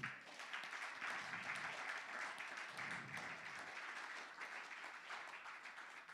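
A church congregation applauds together, a steady dense wash of clapping held at an even level, somewhat distant and filling the whole stretch without talk.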